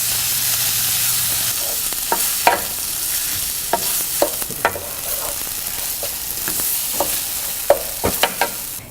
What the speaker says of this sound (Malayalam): ടൊമാറ്റോ ശരിക്കും അലിഞ്ഞു ചേരുന്നത് വരെ വഴറ്റണം.